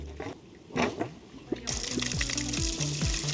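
Water gushes and pours steadily from a pipe as a deep well pump discharges murky water from a new borehole, a splashing flow that starts abruptly and continues, after some low knocking and a voice.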